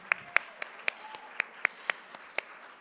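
Sparse, sharp claps spaced unevenly, about nine or ten over a few seconds, fairly faint against a quiet background.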